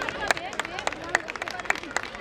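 A few scattered handclaps from the audience at a school annual function, uneven and fairly close, with faint crowd murmur underneath.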